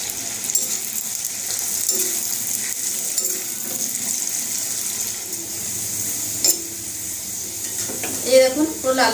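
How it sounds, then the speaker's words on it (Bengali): Chopped onions fry in hot white oil in a wok, a steady close sizzle with scattered stirring scrapes and a few clinks toward the end. "পেঁয়াজগুলো দিয়ে দিচ্ছি।"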